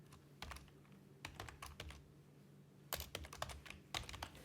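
Keys clatter on a computer keyboard while someone writes a database query, in short irregular bursts of taps separated by brief pauses, close and clear with no talking.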